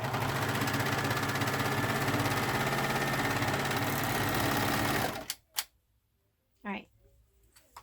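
A serger sewing machine finishing the edges of fabric lids for a sewn bear, running fast and steady for about five seconds before stopping, followed by a few faint handling sounds.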